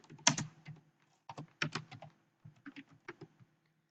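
Quick bursts of keystrokes on a computer keyboard while entering data into an Excel spreadsheet cell, close and clicky, in irregular clusters separated by short pauses, with no talking.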